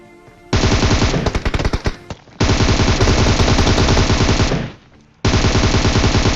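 Automatic gunfire in a shooter video game, loud close bursts of rapid shots with brief gaps, one stretch of choppy single cracks and a short pause before the firing resumes.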